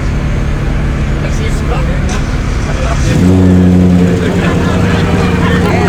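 A carbureted V6 muscle car with a modified carb and added exhaust revs loudly up close, its engine rising to a higher-pitched roar partway through and holding steady, with voices audible in the background.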